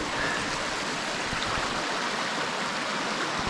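River stream in the Scottish countryside near a small bridge, a steady, close rush of flowing water with no voices over it.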